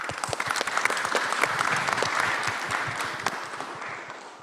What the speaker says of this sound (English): let's have the round of applause for our panelists